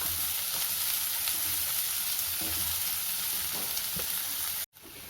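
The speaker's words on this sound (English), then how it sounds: "Saute the onions till they become golden brown." Onions sauté in hot oil in a pan with a steady close sizzle and faint stirring scrapes, ending in a short break near the close.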